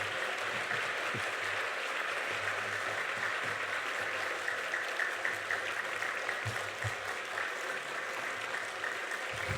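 Steady applause from a church congregation welcoming a pastor at a revival meeting fills the space, a dense continuous patter of clapping holding at an even level throughout.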